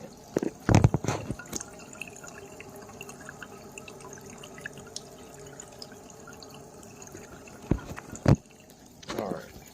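Water falls onto a small jet boat impeller in a simple test rig, giving a steady trickling, splashing patter with a few sharper drips and knocks near the start and end. The sound is close and moderately loud.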